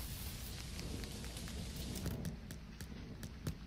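In the video game Dinkum a heavy downpour hisses on without a break, full and close, with sharper drip clicks standing out near the end and nobody speaking.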